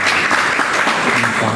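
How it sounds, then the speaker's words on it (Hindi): Loud, dense applause from a gathering at a school summer camp closing and prize ceremony, a crowd clapping for a teacher, sustained and close for the whole short stretch, with some faint voices underneath. "सुनीता मैडम के लिए जोरदार तालियां हों।"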